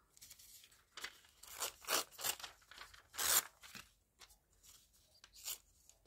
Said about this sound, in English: Tearing down to the music part.